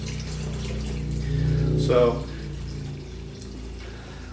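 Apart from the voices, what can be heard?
grape juice poured from a jug into a container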